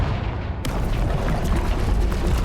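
A Confringo spell blast in the Hogwarts Legacy video game, heard as a sudden booming burst that starts about half a second in and rolls on as a dense, loud rumble.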